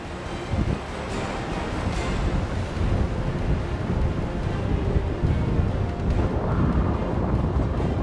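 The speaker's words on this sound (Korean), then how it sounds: "배가 뜰 수 없을 정도로 부는 바람." Gale-force wind roars across the open sea at a fishing harbor by Ulleungdo and Dokdo, with heavy waves of five to six meters crashing continuously, loud and buffeting the microphone throughout.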